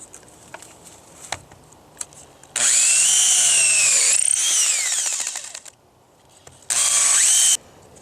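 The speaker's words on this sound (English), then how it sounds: "I'm going to drill this next row 3 inches away from this one" A power drill bores holes into a wood log for mushroom dowels, two loud whining bursts with a rising then falling pitch, separated by quiet handling clicks and knocks.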